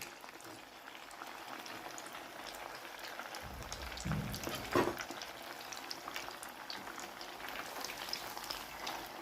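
Grated potato snacks fry in hot oil over medium heat with a dense, continuous bubbling sizzle, interrupted briefly by a soft stir and a faint clunk midway, with no voices.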